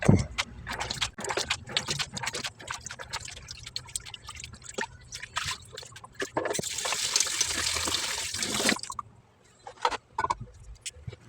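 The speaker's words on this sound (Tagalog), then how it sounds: "Hugasan na natin yung mani na walang balat." Skinless peanuts rinsed under running water at a kitchen sink: a steady splashing trickle with scattered drips and clatters, swelling into a louder gush for a couple of seconds before it stops.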